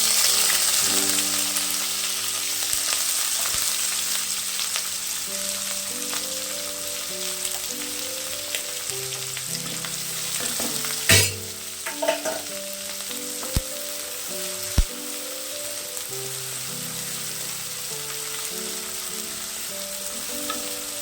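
Onions frying in a pan for village-style mutton curry, a steady hiss of sizzling oil with a few clanks of the spoon against the pan, close and without speech.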